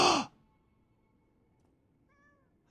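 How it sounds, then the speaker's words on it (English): A cat in the video game Lies of P gives a short, clear meow near the end, following a brief breathy burst of sound at the start and a mostly quiet stretch between. "I must pet cat every time I come across."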